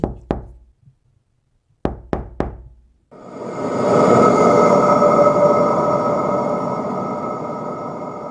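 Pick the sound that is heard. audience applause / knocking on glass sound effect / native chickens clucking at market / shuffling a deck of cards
knocking on glass sound effect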